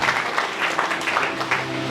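Church congregation applauding during a French-language worship service, steady full-room clapping with rhythmic surges that carries on for the whole couple of seconds, with no talking.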